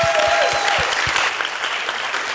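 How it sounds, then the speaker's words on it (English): An audience at a human trafficking panel discussion breaks into applause, a dense burst of clapping that holds for a moment and then thins and fades. "So how about a round of applause?"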